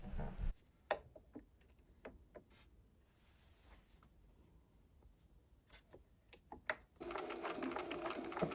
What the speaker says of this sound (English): Practice stitching straight on the line and stitching right up to the point of the angle before turning.